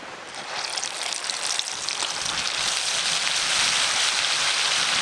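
Mustard paste goes into hot oil for Bengali mustard hilsa and makes a steady, dense hiss that swells slightly and holds at an even, close level throughout, with no talk.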